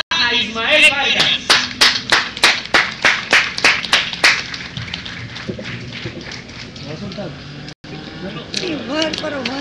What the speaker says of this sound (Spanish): así que le damos un aplauso y una gran bienvenida